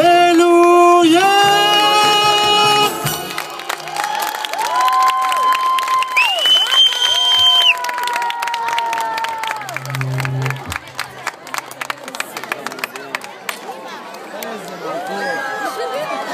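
Audience at a Shavuot celebration in Gderot clapping in a dense, rapid patter under singing voices and crowd chatter, the applause running throughout alongside sung melody.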